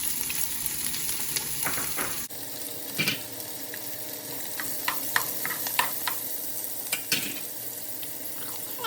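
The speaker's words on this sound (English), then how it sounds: "in a large pot with hot oil, you start with your diced onions" Diced onions hit hot oil in a large pot, a steady broad sizzle with occasional sharp crackles and spoon clinks, close and continuous, no one speaking.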